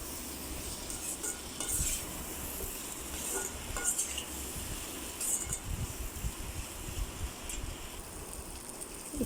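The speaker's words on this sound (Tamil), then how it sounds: "அப்படியே நல்லா அடி பிடிக்காமல் கிளறி விட்டுருங்க" A utensil scrapes and taps through potatoes and spices in a pan over a soft background sizzle, with irregular stirring strokes that stay close and moderately quiet throughout.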